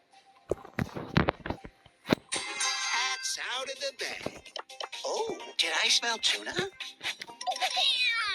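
A voice imitates a cat, making a series of drawn-out, wavering meows mixed with talk during a Brawl Stars game session, loud and close with sharp bursts in between.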